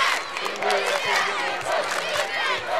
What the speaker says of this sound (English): Norman's cheering on the right side of your screen.